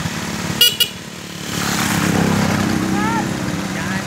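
A motorcycle grinds up a steep, unpaved dirt road in rural Ugbokan, Davao de Oro, its engine a steady close drone after two short horn toots near the start, with a voice speaking over it.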